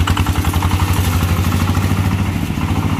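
A motorcycle fitted with a racing exhaust pipe idles close and loud, its pulsing, clattery exhaust beat steady over the whole short stretch.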